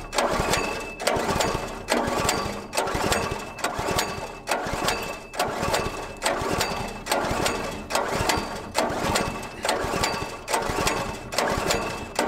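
A small gasoline engine runs with a steady, rhythmic chugging pulse that repeats roughly every second, fairly close and loud, with no talk over it.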